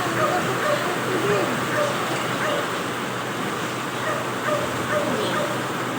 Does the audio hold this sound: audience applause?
no